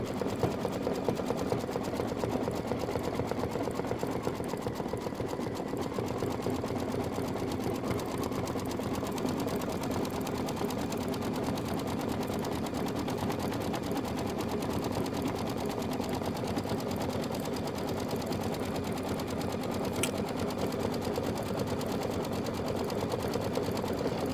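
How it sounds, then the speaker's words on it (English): Sewing machine stitching a quilt block, a steady continuous mechanical whir with a fast needle rhythm throughout, close and even in level. "This is 6 minutes of stitching."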